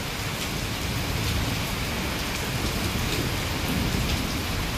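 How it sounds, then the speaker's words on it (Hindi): Torrential rain with small hail pours down on a lawn in Islamabad, a dense, steady hiss of heavy downpour with scattered sharp ticks of hailstones, loud and continuous throughout. "किस शिद्दत की इस वक्त ये बारिश हो रही है"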